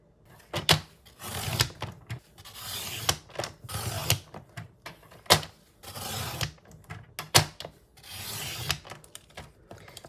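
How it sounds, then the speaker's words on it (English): A paper trimmer slices through two stacked cardstock strips in repeated rasping strokes, each cut a short scraping burst with brief pauses between, close and moderately loud with no voices. "So with this paper trimmer, I can cut both of these at the same time."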